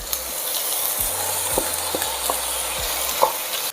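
Rabbit pieces and mushrooms frying in a pan, a loud continuous sizzle with occasional spatula clicks and taps close by.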